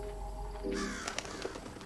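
Crows caw in the Hello Neighbor 2 video game, a few harsh calls rising over a quiet ambient background and then fading to scattered faint cries.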